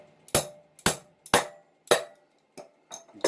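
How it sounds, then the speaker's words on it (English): A hammer taps a primer into a cartridge case during Berdan-to-Boxer reloading, giving about seven sharp, close metallic knocks at an uneven, steady pace with brief silences between strikes. "get your favorite hammer."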